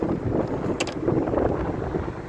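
Strong wind buffets the microphone in a steady roar, with rain and rushing water blending into the continuous noise.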